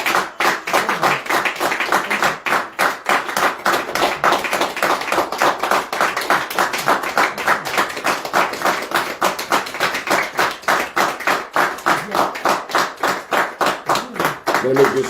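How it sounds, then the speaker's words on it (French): Church congregation clapping in a steady rhythmic beat during a French-language service, loud and close, with voices acclaiming and singing underneath throughout. "Est-ce qu'on peut donner des acclamations à notre Dieu ce matin?"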